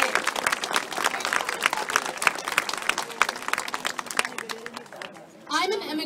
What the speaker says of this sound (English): can we please have a round of applause for the girl who spoke?